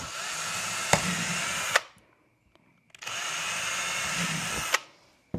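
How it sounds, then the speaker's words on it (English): A power drill runs in two sustained bursts of about two seconds each, loud and close, with a quiet pause between them. "we're going to drill through 2 holes"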